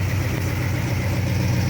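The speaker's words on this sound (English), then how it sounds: "I love the sound of that noisy valve train." A 1968 Dodge Charger with a 426 Hemi V8 idles close by with a deep, steady rumble and an even lumpy pulse, its noisy valve train ticking throughout.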